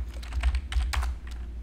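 Rapid, light keystrokes on a computer keyboard as a short search phrase is typed, close clicks in quick bursts with a faint low hum behind them.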